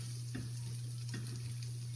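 Egg mixture for breakfast sandwiches sizzles and spits in a frying pan as it is stirred, a close, steady frying hiss with soft scraping pulses over a low hum.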